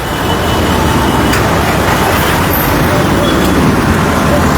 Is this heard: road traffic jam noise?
yes